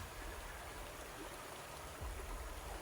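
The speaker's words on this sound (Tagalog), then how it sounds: "kasi yung ulan." Rain in the Philippines falls as a steady, quiet wash of hiss with no break, faint and continuous, and no voices can be heard over it.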